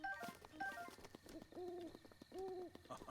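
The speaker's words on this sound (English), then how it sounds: "Owl, where are you?" An owl in Zelda: Breath of the Wild gives soft, low hooting calls, two or three drawn-out hoots heard faintly over quiet game ambience and other bird chirps.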